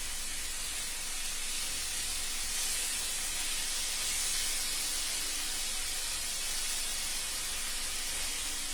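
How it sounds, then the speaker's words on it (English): Lemon pasta sizzles in a stainless pan, a steady, dense hiss that holds at even loudness throughout with no pauses. "Can you guys hear me over the sizzling?"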